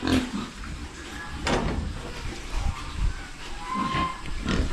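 Pigs grunt and snuffle at close range in short, irregular bursts over a steady farmyard background.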